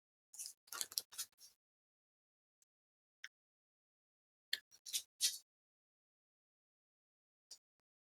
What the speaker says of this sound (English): So I'm just going to throw the 12 dice up.